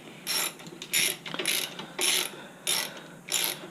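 A ratchet wrench hand-tightening winch mounting bolts into the cast block of a Suzuki KingQuad 400 ATV, six bursts of clicking strokes in a steady rhythm, close and alone.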